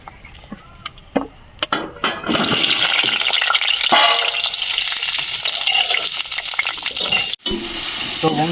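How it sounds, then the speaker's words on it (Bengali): Potatoes frying lightly in oil, a faint clink and a few soft knocks at first, then a loud, steady close sizzle with crackling that holds to the end, broken once by a brief pause. "এরপর আমরা আলুটাকে হালকা করে ভেজে নেব"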